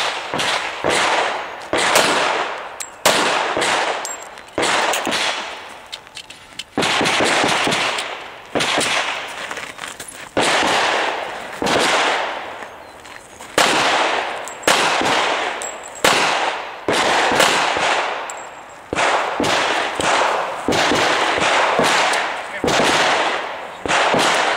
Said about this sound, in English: Shooting like this helps to get you thinking while on the move.